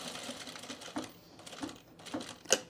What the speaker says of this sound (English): you might want to edge stitch the fold too